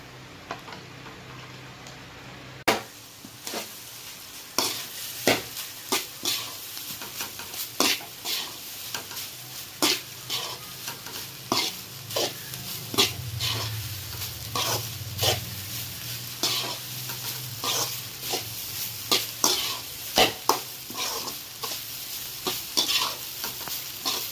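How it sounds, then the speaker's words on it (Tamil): Cooked rice is stirred and fried in a pan for egg rice, a steady sizzle under repeated sharp scraping and clacking strokes of a spatula at an irregular, lively rhythm. "இப்போ ரைஸை போட்டுக்கலாம்."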